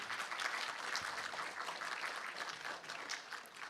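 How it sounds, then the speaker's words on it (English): Sustained applause from a tech conference audience at Handmade Seattle, dense and steady clapping filling the room for a few seconds without letup. "I think we should give a round of applause to ARC, the version control system trying to take on the incumbents."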